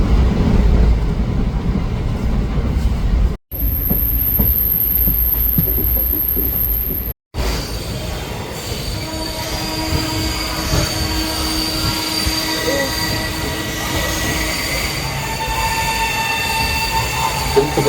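A train rolls past close by, a steady loud rumble of wheels on rails with metallic squeals and ringing tones, no voices.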